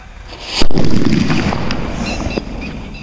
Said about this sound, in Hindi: ये देखा भाई आपने, क्या शानदार ब्लास्ट हुआ हमारा जो डॉन बुलेट बम था।